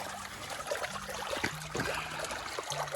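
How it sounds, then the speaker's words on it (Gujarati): Water trickles and gurgles along an irrigation channel in a chickpea field, a steady close babble with a few low tonal sounds underneath. "અહીંયા પાણી આવે છે, ખળખળિયો થાય."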